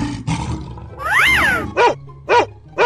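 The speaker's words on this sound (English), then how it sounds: "Dog." A dog barks three times in short, loud bursts, spaced evenly near the close, following a rising and falling roar-like cry and a few rougher sounds at the start.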